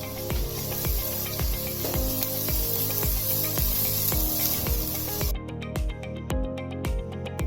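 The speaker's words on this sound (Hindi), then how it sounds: "तो ऑयल ले लेंगे हम थोड़ा सा पतीली में और इसमें लहसुन ऐड कर देंगे सबसे पहले, और इसको हम थोड़ा सौटे कर लेंगे" Garlic sautés in oil in a pot with a loud, continuous sizzle and a steady pulse of low thumps beneath it, until the hiss thins out abruptly near the end.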